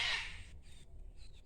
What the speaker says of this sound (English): The cockatoos. I love the cockatoos.